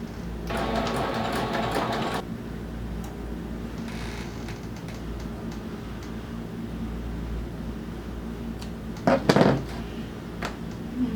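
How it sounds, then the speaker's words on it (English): A sewing machine top stitches a small handbag seam in steady mechanical bursts, a long run at the start and a shorter one near the end, with no talking. "1/8 inch top stitch along the top, and then we're going to continue around the U just for a basting stitch."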